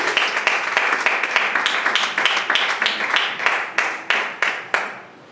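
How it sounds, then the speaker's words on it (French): A church congregation claps together after a French-language sermon, a dense burst of hand claps that thins into a few sharp separate claps before fading out, with no voices over it. "Est-ce qu'on peut encore applaudir la parole de Dieu?"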